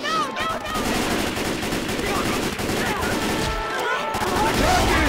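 Dense, continuous automatic gunfire and rapid shots from a Left 4 Dead 2 versus match in the Swamp Fever finale, loud and sustained throughout with brief dips, voices talking faintly underneath.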